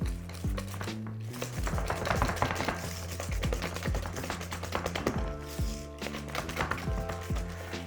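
Strong diluted coffee being mixed into a coffee mousse in a kitchen, with a steady whisking or stirring rhythm and small repeated taps against the bowl, close and moderately loud with no speech.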